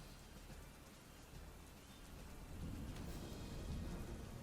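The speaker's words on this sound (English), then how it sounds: "you can hear the crack of thunder and the occasional flash of lightning" Rain patters steadily in a quiet thunderstorm while a low rumble of thunder swells and rolls through the second half, heard alone and at a distance.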